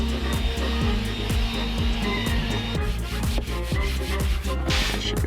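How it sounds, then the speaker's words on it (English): Wooden board edges and faces are sanded smooth, making a steady, close, loud abrasive rasp with rhythmic back-and-forth strokes and a continuous machine-like hum. "I'm gonna sand it all down, get these edges nice and smooth, get the faces nice and smooth"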